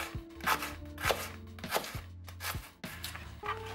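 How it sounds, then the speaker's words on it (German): A knife slices an onion into fine strips on a board, a steady run of close, crisp cutting strokes about two per second, each a short chop against the board, with no talk. "Wir fangen an mit der Zwiebel. Die machen wir einfach nur in feine Streifen."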